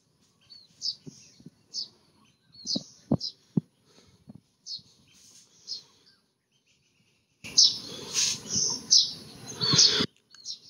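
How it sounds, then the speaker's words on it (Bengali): Birds chirp and call at sunrise in a quiet mountain valley, soft repeated tweets at a distance with a few low knocks, then a louder stretch of calls over rushing noise. "পাখির ডাক, শান্ত"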